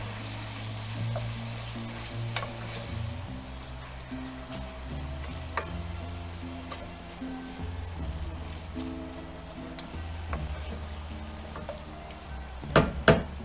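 Ground meat sizzles steadily as it browns in a pan for stuffed bell peppers, a soft continuous crackle broken by occasional light scrapes and taps of a utensil.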